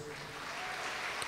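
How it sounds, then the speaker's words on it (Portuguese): A church congregation claps in a brief, steady burst of applause, dense and diffuse, with no voices over it. "Vamos aplaudir a Deus"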